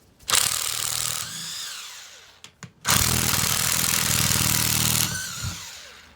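A cordless impact gun on a weak battery works on a new brake caliper and bracket of a 2005 Honda Pilot, giving two long, loud whirring bursts whose pitch sags and wavers, separated by a short pause.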